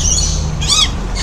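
Loud bird squawks break out amid steady background noise, with a strong harsh call in the middle and another starting near the end, as birds crowd around people being fed.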